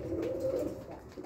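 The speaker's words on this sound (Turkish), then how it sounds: "Bunlar Hasan abiye bu parti göndereceğim kuşlar" Pigeons coo softly and continuously at close range inside a loft, low rounded calls overlapping in a steady murmur.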